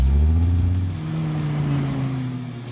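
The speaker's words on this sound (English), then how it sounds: "So now let's see how those settings work out for Erich on the track" A Dodge Viper ACR runs on a race track, its engine drone loud and steady with a slowly falling pitch, as if easing off or passing by, with no voices.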